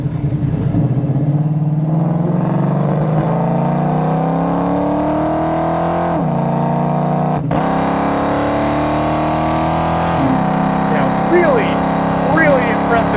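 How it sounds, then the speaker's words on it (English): A 1973 Dodge Challenger with a 383 engine and automatic transmission accelerates hard, its loud engine note climbing steadily and then dropping sharply at each of two upshifts before climbing again. "I'm going to go ahead and bang it down into all of our gears here, and we'll slapstick through all three of the gears"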